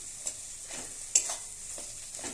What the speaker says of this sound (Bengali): এরকম করে ভালো করে কষিয়ে নিতে হবে।